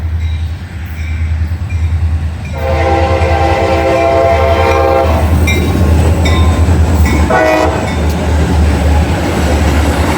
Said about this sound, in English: It's a rail train.